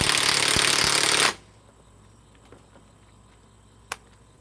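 A high-torque half-inch drive impact wrench rattles loudly for about a second and then stops, leaving a quiet room with a couple of faint knocks.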